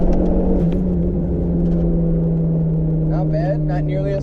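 A Dodge SRT4 pulls hard in second gear, its engine a steady loud rumble heard from inside the car, with a brief rising rev note near the end.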